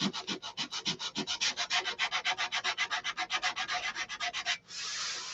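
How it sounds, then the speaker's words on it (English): Sandpaper rubbing back and forth along the fabric covering of an aircraft, about thirty quick even strokes close up, ending in a short steady hiss. "Run it along, so you're not sanding on that edge."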